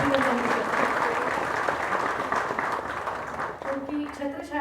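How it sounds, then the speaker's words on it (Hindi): Applause from the audience at an All India Ayurveda conference event honouring the AYUSH minister, a dense crowd clapping that gradually fades, with a voice speaking over the end. "जोरदार तालियां हो जाएंगी और उनका अभिनंदन भी करते हैं।"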